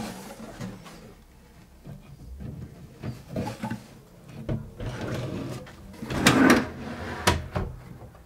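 A wooden drawer built for a workshop slides open and shut several times, soft scraping and rumbling runs ending in clear knocks as it closes, close by and without talk.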